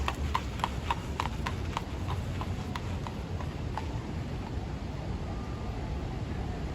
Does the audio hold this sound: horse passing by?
yes